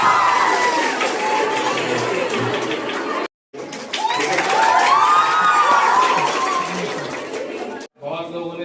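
A hall of NEET repeater students claps and cheers loudly for their teachers, with excited shouting and chatter, broken by a couple of brief silences.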